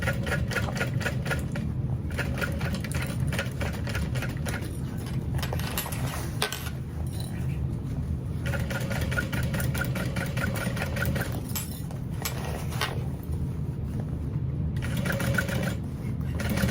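A sewing machine stitches around the curve of a fabric sling in several bursts of rapid, rhythmic mechanical chatter separated by brief pauses, close and steady over a constant motor hum.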